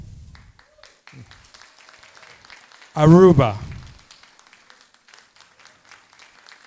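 Audience applause at a university graduation ceremony, a brief loud burst of clapping lasting about a second, with an announcer naming countries before and after.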